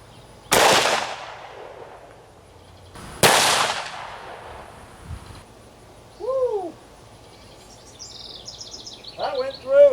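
Two sharp, loud magnum pistol shots a few seconds apart, Underwood 140 grain extreme penetrator rounds fired into body armor, each ringing out briefly, followed by faint chirping sounds.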